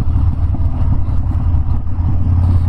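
A 2015 Harley-Davidson Dyna Street Bob cruising in sixth gear at about 30 mph. Its engine gives a continuous, deep, throbbing rumble that stays close and even throughout, with no voices.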